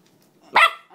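A pitbull or patterdale puppy lets out a single sharp, close bark during play fighting, after a moment of near silence.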